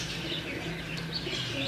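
A Jeller breed pigeon coos softly among other birds in a loft, low murmuring calls blended with faint chirps and a steady background hiss.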